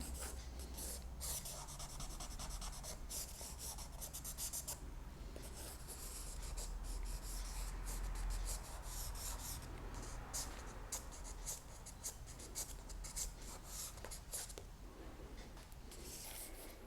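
A charcoal pencil scratches and rubs steadily across paper, a soft continuous rasp of shading strokes with occasional sharper ticks, quiet and close with no talking.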